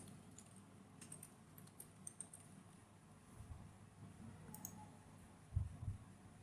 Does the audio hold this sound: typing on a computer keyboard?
yes